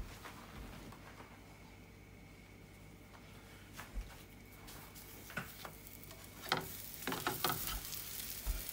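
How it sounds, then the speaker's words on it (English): Aloo paratha frying in a pan, a soft continuous sizzle with scattered light ticks and utensil clatter growing busier toward the end, fairly quiet and close with no talk. "right now, I'm going to cook the other paratha"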